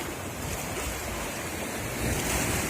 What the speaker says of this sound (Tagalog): Ayan oh, dagat na yan.